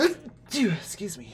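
A single sharp sneeze bursts out in a room during a casual tabletop RPG session, followed a moment later by a spoken apology as people talk.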